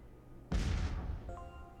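A space battle explosion in the Master of Orion (2016) strategy game bursts in as one sudden loud, deep boom that rumbles and decays, followed by faint electronic tones.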